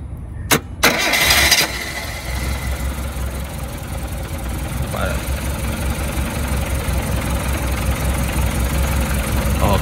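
A Proton Wira car engine is started without a key by wiring the starter directly: a sharp crank and catch, then the engine settles into a steady rough idle that runs on.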